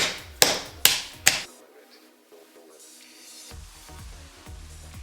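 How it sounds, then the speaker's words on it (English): Graham crackers smashed in a plastic bag with the end of a spoon: three sharp, loud thumps in quick succession, then softer crinkling and light taps of the bag. "I find it's easier to just lightly obliterate the graham crackers in a plastic bag with the end of a spoon."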